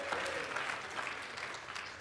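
Church congregation clapping during a sermon, a dense, steady round of applause from a crowd in a hall, moderate and continuous, with faint voices mixed in.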